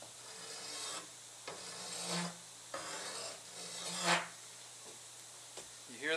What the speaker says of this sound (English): And when I was sharpening it, it's making these god-awful sounds.